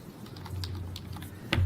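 Someone types on a computer keyboard to enter a search, producing a quick run of light, close key clicks with a firmer tap near the end and no voice.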